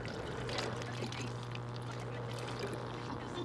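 Water poured from a bottle of Aquafina for drinking makes a steady trickling pour that runs unbroken for a few seconds at close range, with no talk over it.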